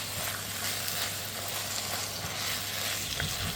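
Chicken sizzles and fries steadily in a pan for budget chow mein, a continuous close crackling hiss with a low steady hum beneath and no talking.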